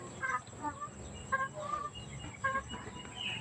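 Chickens cluck in short bursts, with a few clucks spaced about a second apart, faint and somewhat distant over low background noise.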